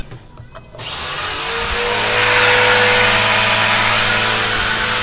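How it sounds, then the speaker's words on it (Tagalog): An electric water pump motor starts up and runs steadily, filling a drum at a rural home in Albay, Bicol, its loud hum and whirring rising in the first seconds and then holding constant. "Ito yung motor."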